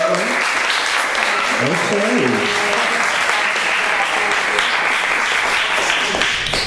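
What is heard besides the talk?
audience applause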